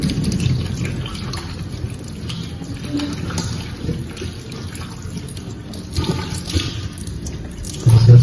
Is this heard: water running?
yes